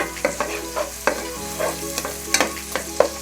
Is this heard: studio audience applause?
no